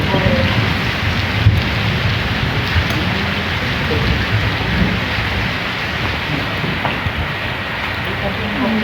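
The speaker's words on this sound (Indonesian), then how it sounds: "Jakarta hujan baru geluduk" Steady rain pours over Jakarta in a dense, continuous wash with low rumbling that fits distant thunder, while faint voices murmur underneath throughout.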